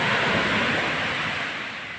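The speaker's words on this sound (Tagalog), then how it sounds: "Dito tayo, yan, yung dagat." Sea surf washing on a shore under a gray, rainy sky, a steady broadband roar that stays loud and close for the whole stretch, slowly easing slightly, with no voices.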